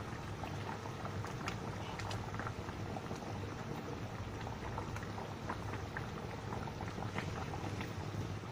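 A pot of black pomfret fish curry with okra and tomato simmers softly, with faint, steady bubbling and small popping sounds and no voices.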